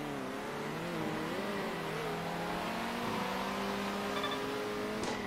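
GT3 race car engine in a racing video game at the Pergusa circuit, holding a steady droning tone with gradual pitch shifts and shallow revs, continuous and fairly loud throughout.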